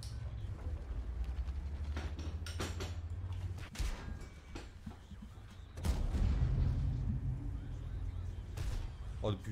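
A tank's main gun fires in a tank video game: sharp booming shots cut through a low engine rumble, with a heavier blast and its echo later, while a player talks.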